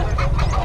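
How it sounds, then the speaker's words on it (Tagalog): Fowl calling at close range where gamecock roosters are kept, a few loud squawking clucks in quick succession, no talking. "Maraming manok yan dito."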